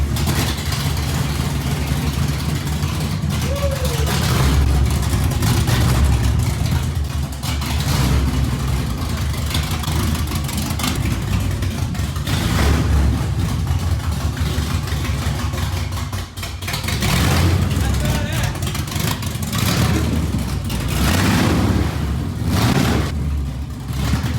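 A rusty old Chevrolet C20 pickup truck's engine idles loud and close throughout, with a steady rumbling drone and occasional swells in revs.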